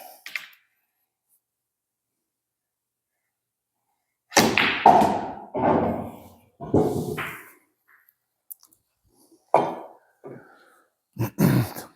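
Pool cue striking the cue ball off a mechanical bridge with a touch of right-hand English: sharp wooden clacks and ball knocks in short bursts after a few seconds of quiet.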